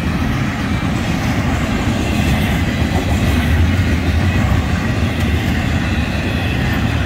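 A Florida East Coast Railway freight train rumbles past continuously, a steady low roar with rolling wheel noise and faint rhythmic clatter, fairly close and loud throughout.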